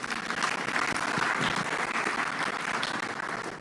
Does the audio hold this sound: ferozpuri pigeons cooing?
no